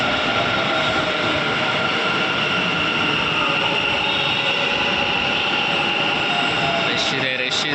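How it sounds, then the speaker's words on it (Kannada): A metro train pulling into a crowded station, giving a steady loud rumble and whine that fills the whole stretch, with a brief squeal near the end. "ಇಂತು ಮೆಟ್ರೋ ಬಂತು ಗಾಯ್ಸ್."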